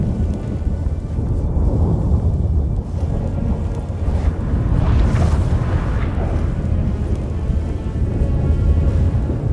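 A thunderstorm in The Witcher 3 rolls in as a loud, sustained low rumble of thunder with a heavier swelling boom midway, and no talking over it.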